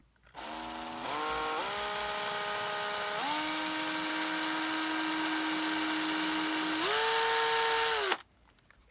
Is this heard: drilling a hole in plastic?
yes